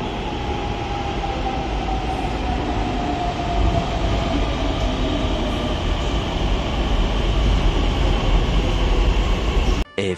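Pune metro train riding between Bund Garden and Pune railway station, with a steady loud rumble and hum of the moving carriage, rising whine and rail noise throughout, and no talk.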